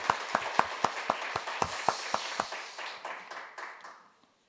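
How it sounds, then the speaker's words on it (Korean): A church congregation at a New Year's Eve service gives a round of applause: sparse, distinct hand claps at an even beat, joined by softer scattered clapping that thins out and fades to silence. "우리 올 한 해 우리를 지키신 하나님께 우리 영광의 박수를 다시 한번 드리겠습니다."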